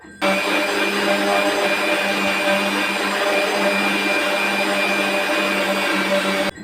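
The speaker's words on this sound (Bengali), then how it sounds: "এখন কন্টেনারটার ঢাকনা বন্ধ করে দিয়ে মেশিনটাকে অন করে দেবো" A blender runs steadily while making mango lassi with salt, giving a loud, continuous motor whir that starts abruptly, holds an even drone, and cuts off at the end, with no talking.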